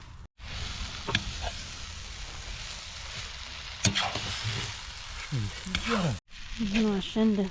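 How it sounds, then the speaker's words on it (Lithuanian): Mushrooms sizzle and hiss steadily in a hot pot, with occasional stirring clatters, while voices talk over the frying. "šiandien su grybukais, tai Andrius prie puodų"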